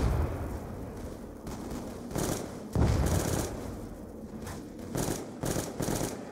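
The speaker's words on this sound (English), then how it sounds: "Oh, that's a shotgun." Shotgun blasts in Call of Duty Black Ops 2 Zombies crack out in a rapid irregular series of sharp bangs, fairly close, over a low rumbling game background.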